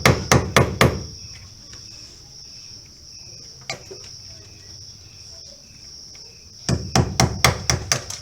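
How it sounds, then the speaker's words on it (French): A hammer taps a nail into a wall during a faucet repair, striking in quick bursts of four or five sharp knocks at the start and again at the end, with one lone tap in between and a steady insect-like hiss underneath. "On tape avec le marteau comme ceci."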